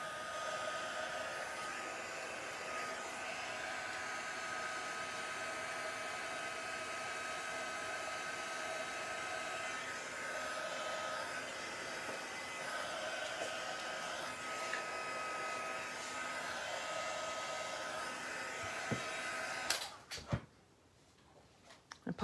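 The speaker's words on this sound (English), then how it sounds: "now I'm going to push it around with my heat gun" A heat gun blows steadily, pushing alcohol ink around a craft background, a continuous close airy whoosh lasting about twenty seconds before it cuts off into near silence with a faint clatter.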